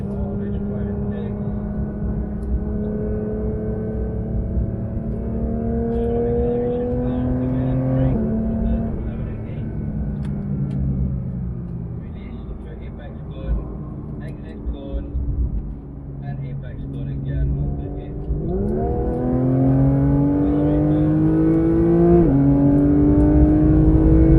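A Porsche 911 GT3 of the 992 generation on the Sepang circuit, heard from inside the car: its engine drones loudly and steadily, with pitch drops and sharp rises as it shifts gears.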